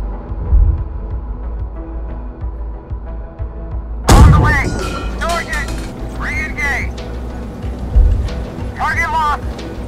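An M60A1 tank main gun fires in the GHPC tank game with one loud, deep boom about midway, followed by a rumble and a second heavy thud later, while voices talk loudly over the noise.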